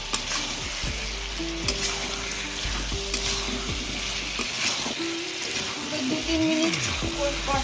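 Potatoes stirred into a frying shankar (stingray) fish curry: steady sizzling in the pan with repeated scraping strokes of a spatula, close and continuous, no talking.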